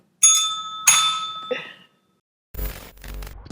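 A small bell is struck twice with bright ringing tones that decay, then a softer third tap, followed by a pause and a burst of noisy rattling at the end.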